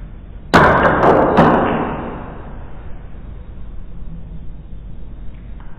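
A carrom striker cuts a coin on a carrom board with a sharp, loud crack, followed by a few quick clicks as pieces knock together. The sound then fades into near silence.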